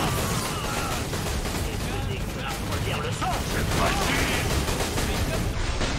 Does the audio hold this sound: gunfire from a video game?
yes